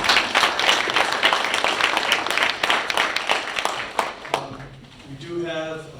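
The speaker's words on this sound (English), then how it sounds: "So please give a round of applause to all of our candidates." An audience at a Central Lakes Republicans meeting applauds the candidates, a dense wash of clapping for about four seconds that fades as a voice begins speaking at the end.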